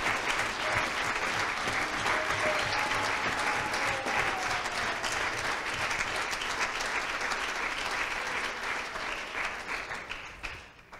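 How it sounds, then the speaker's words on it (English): A church congregation breaks into sustained applause, a dense, even roar of clapping that holds steady for several seconds before gradually thinning and fading out at the end. "Let's give God a round of applause for what he's done."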